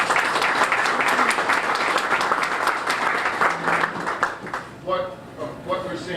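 Audience applause at an aquaculture and fisheries field day, a steady crowd of clapping hands for several seconds, thinning out near the end as a speaker begins talking.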